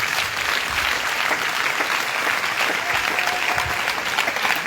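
A congregation at a church service breaks into loud, sustained applause, a dense even wash of clapping that fills the room without pause from start to finish.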